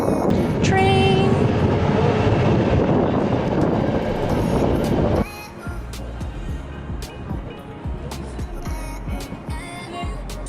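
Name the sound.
passing train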